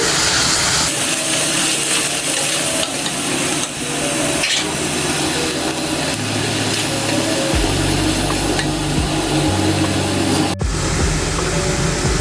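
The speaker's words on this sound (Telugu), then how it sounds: "ఇది కూడా బాగా మంచిగా వేగాలన్నమాట ఆయిల్లో ఈ పేస్ట్" Masala paste of coconut fries in hot oil for a Telugu mutton curry, with a steady loud sizzle and crackle running throughout and a few clinks and scrapes of a utensil in the pan.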